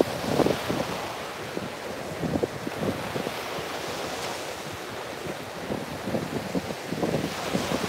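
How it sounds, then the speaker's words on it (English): Ocean waves rolling onto the shore in repeated surges and washes, fairly close, with gusty wind buffeting the microphone; no one speaks over the steady surf. "the sounds of the waves"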